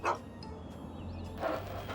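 A dog in Fallout 3 gives two short barks, one at the start and another a little later, close and moderately loud over a low game ambience hum.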